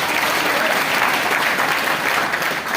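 An audience applauds during a Jan Suraaj Party political speech by Prashant Kishor, a loud, steady wash of many hands clapping from start to end with no clear break.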